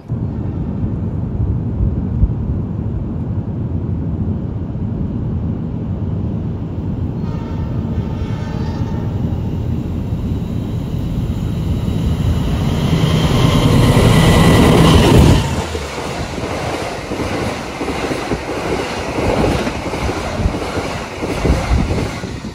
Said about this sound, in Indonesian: kereta Kuto Jaya Selatan tambahan sedang dalam proses merapat di stasiun Kroya